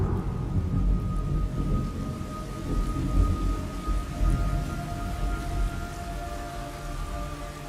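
Thunderstorm with rain in the video game Metal Gear Solid Delta: low thunder rumbles swell and roll beneath a steady wash of rainfall at moderate loudness, with no voices.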